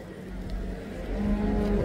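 Calves low faintly at a livestock market, a soft, brief moo rising toward the end over quiet background noise.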